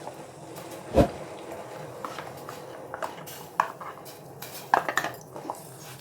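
A spoon scraping and knocking against a metal pot while stirring ragi flour, irregular stirring clinks with one louder clang near the start.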